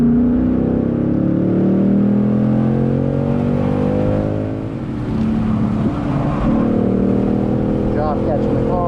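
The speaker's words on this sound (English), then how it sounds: "And we're throttling out." A Ford Mustang Mach 1 powers out of a corner at Virginia International Raceway, its engine note droning and climbing steadily under a voice giving driving instruction, with a brief dip midway before the throttle builds again.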